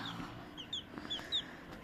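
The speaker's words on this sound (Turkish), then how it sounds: "Böyle güzel bir civcivimiz çıktı" Faint, high chirping peeps from a newly hatched chick, a few short calls spaced apart over soft background noise.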